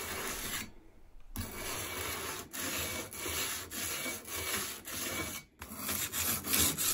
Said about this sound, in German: Die scharfen Kanten vom Glas könnt ihr jetzt mit einem Schleifstein bearbeiten